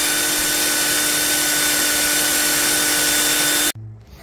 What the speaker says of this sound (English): I'm just gonna drill out four holes.